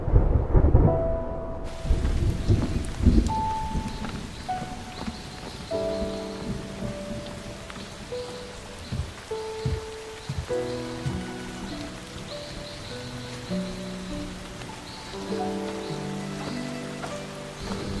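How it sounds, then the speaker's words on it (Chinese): Rain with thunder, a loud opening rumble followed by steady rainfall and occasional further thunder, overlaid by sustained musical tones. "下雨了"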